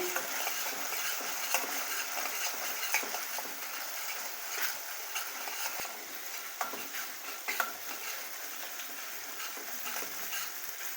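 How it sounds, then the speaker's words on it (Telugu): Ginger garlic paste frying and being stirred in a pan for chicken gravy, a steady close sizzle with frequent scraping spoon strokes, no voices. "అల్లం వెల్లుల్లి పేస్ట్ కూడా బాగా వేగాలి"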